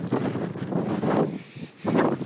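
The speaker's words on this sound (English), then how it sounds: "It's absolutely blowing a gale." Gale-force wind buffets the microphone on a wintry mountain ridge during a blizzard, coming in loud, roaring gusts with brief lulls between them.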